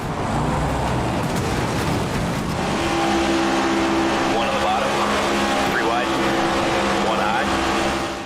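Race car engines in NASCAR 25, a loud steady roar of several cars at full throttle with a rising engine whine and brief tire squeals, under a voice speaking over the action.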